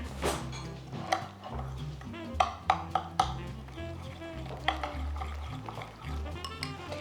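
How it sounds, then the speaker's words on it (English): A spoon stirs Jiffy corn muffin mix and milk in a bowl, knocking and scraping against the sides in an uneven rhythm of close clinks and soft thuds. "And let's stir all of this together."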